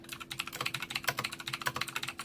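Rapid, steady clacking of typing on a Blackweb mechanical RGB gaming keyboard with blue switches, close and crisp, with dense keystrokes running evenly throughout and no voices.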